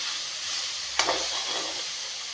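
Fish sizzles steadily in a frying pan, a constant oily hiss with a single quick clatter from a utensil in the middle.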